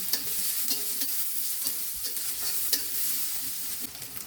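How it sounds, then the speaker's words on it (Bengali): Whole green chilies and chopped onion fry in soybean oil in a wok, a steady close sizzle with rhythmic scraping stirs every half second or so and no voices. "অন্য একটা কড়াইয়ে আমি এবার সয়াবিন তেল দিয়ে তাতে আস্ত কাঁচামরিচ ও পেঁয়াজ কুচি দিয়ে নাড়াচাড়া করে নিব"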